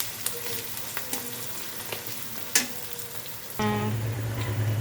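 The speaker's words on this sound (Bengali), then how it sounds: "আমার পেঁয়াজটা আধা ভাজা হয়ে এসছে এটা পুরো লাল করে ভেজে নেব" Onions frying in a pan for pasta, a steady close sizzle broken by a few stirring scrapes, then a louder, denser hiss with a low hum toward the end.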